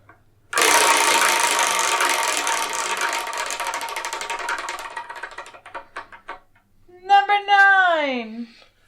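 A prize wheel spun to choose the next manga for review: a sudden loud burst of rapid clicking that slows into sparse ticks and stops, followed by a brief exclamation from a voice.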